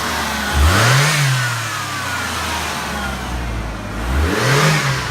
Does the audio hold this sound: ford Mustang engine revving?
yes